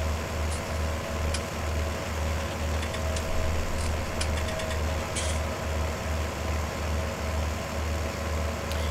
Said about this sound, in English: I wouldn't never complain about the sound of the tractors.